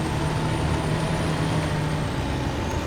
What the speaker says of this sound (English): I'm pretty impressed with how this truck is doing on the flooded road.